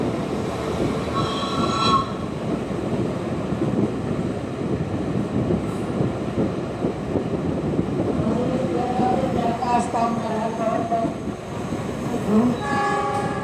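A train rumbles and clatters along the rails with a steady rolling noise, punctuated by short high metallic squeals and brief horn-like tones.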